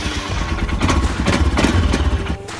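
Royal Enfield Himalayan 411 adventure motorcycle's single-cylinder engine running, a loud, close, steady thumping idle with a rough pulsing beat throughout and no speech.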